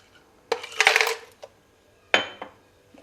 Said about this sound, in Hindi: इसमें बर्फ़ डालेंगे